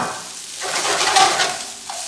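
Rice stir-frying with cabbage and bell pepper in a hot pan for leftover chicken adobo fried rice: a steady, close, loud sizzle with scraping stirring strokes throughout, no talking.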